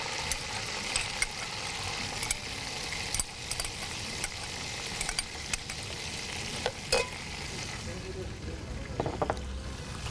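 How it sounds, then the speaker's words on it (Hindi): Ginger-garlic paste frying for chicken nihari, a steady sizzle with sharp clicks of a spoon stirring in the pot, close and fairly loud throughout, with some faint talk. "थोड़ी सी भुनाई हो जाए इसकी।"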